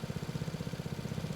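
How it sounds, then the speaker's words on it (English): A mower engine idles steadily in Farming Simulator 22, its low, pulsing drone continuous and close with no talk over it. "let's get this mower unfolded."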